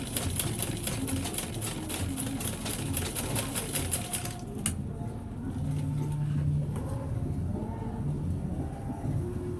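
A sewing machine stitches thick bra foam in a fast rattling run for about four seconds, then stops, leaving quieter handling noise and a low hum.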